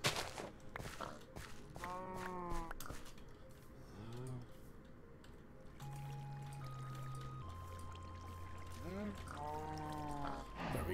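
Water placed and flowing in the Minecraft video game, a soft, steady wash running under the scene alongside gliding tonal sounds and several sustained notes.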